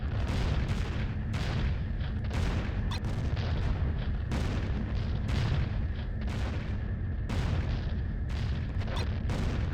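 Anti-aircraft artillery in the Falcon 4 Allied Force flight simulator, a steady barrage of rapid booming bursts under a constant engine drone, repeating in regular clusters throughout.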